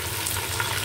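Ginger garlic paste frying in oil with browned onions for a prawn biryani gives a steady, close hissing sizzle throughout.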